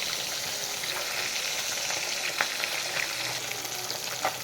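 Pieces of katla fish fry in oil, a dense, steady sizzle close up with occasional crackling pops, heard alone without talking.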